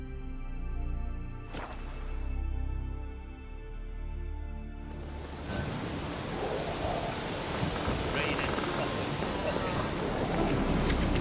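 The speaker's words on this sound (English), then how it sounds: "Raining again." Rain and thunder in The Witcher 3: Wild Hunt, with a sharp thunderclap near the start, then another rumbling crack before steady, loud rainfall pours down for the rest.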